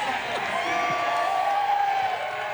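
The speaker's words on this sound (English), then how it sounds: "Crowd is very enthusiastic for the short track racer who has just made so much noise coming over to the ARCA Menards Series" A race-day crowd at Dover Motor Speedway cheers loudly for the winning short-track driver after an ARCA Menards Series General Tire 150, a steady roar of voices and whoops with scattered shouts throughout.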